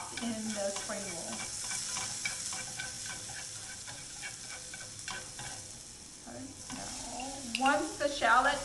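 Shallots and ginger frying in a pan, a steady close sizzle with stirring scrapes and light clatter throughout, and a voice speaking briefly over it toward the end.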